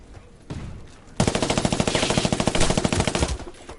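Rapid gunfire in the video game GTA 5, a dense burst of repeated shots after a single thump, loud and continuous for several seconds.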